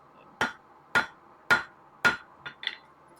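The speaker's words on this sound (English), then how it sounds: "Hammer it a little bit." Hammer blows on hot metal stock at a forge, drawing out and thinning the top: four loud, evenly spaced ringing strikes followed by two lighter taps, close and with no talk.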